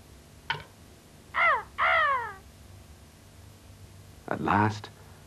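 A crow in a children's storytelling show gives a sharp click, then two harsh, drawn-out caws in quick succession, and after a pause a louder, rougher caw over a faint background hum.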